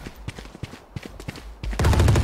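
Gunfire in the tactical shooter Valorant: a run of sharp, evenly spaced shots crackles close up, then a sustained loud burst of dense noise swells at the end, with no talk over it.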